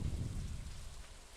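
Thunder rumbling during a rainstorm in the video game Stardew Valley, a faint low roll over steady rain hiss, fading slowly.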